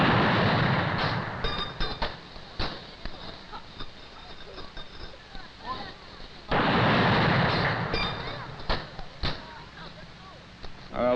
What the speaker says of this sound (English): The President has entered the cemetery and is receiving a 21-gun salute at the present time.